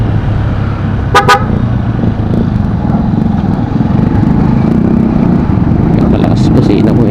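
Motorcycle engine and traffic noise roll on steadily while a loud motorcycle horn gives a quick double toot near the start, and a voice speaks faintly underneath.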